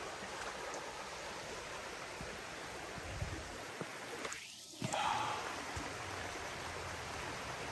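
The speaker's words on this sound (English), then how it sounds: "Nope, just leads right down here to the creek." A creek flows steadily beside a forest trail, its broadband rushing wash filling the scene at moderate, even loudness, with a brief dip midway before the water noise returns.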